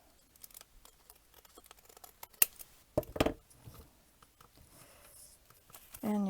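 Scissors trim the edges of folded junk mail paper in a quiet craft session, a few soft snips among light paper rustling and handling sounds, close by.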